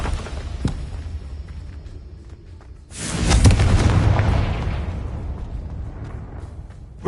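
In Hogwarts Legacy, a Confringo blasting spell detonates with a sudden loud boom midway, followed by a rumbling, crackling blast tail that fades over a few seconds above a low game background.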